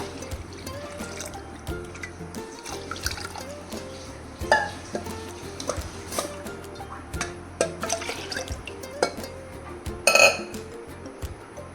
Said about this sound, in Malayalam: പാലും ഒഴിക്കുക